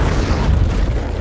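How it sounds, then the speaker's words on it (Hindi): A large blast tearing apart containers, walls, cement and bricks, heard as a loud, sustained low rumbling roar that fills the whole moment with no gaps and no voices. "वो धमाका टैंक वाले से बहुत बड़ा होगा।"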